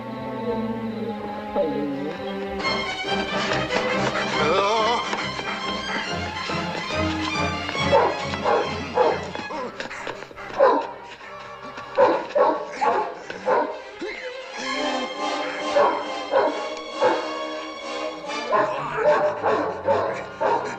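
A dachshund barks and yips repeatedly in short, uneven bursts amid excited voices and other noisy, busy sounds, close and loud.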